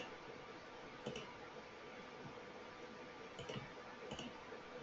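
A few sharp, faint mouse clicks sound on a computer during Notepad work, spaced irregularly over a low steady hum.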